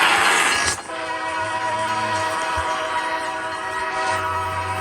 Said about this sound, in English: Here comes the correct train that will hit this.